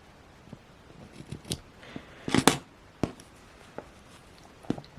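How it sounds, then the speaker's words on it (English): Scissors trim the loose yarn ends of a woven knot on a small woven butterfly, making several quiet, crisp snips close by with one louder cluster of cuts in the middle and light handling rustle in between. "Trim those ends off."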